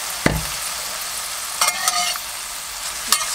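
Zucchini stirred with liquid aminos in a non-cast-iron frying pan, a soft steady sizzle with a few sharp scraping clicks of the utensil against the pan, close and alone.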